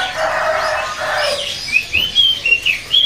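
Oriental magpie robin (kacer trotol) chirping in short, high, clear whistled notes in quick succession toward the end, over a steady hiss of background noise.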